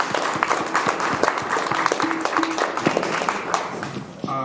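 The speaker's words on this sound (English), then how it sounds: "let's give applause to these folks" An audience at a business ethics faith forum applauds the panelists, with a dense, steady run of many hands clapping at close range and a few voices mixed in.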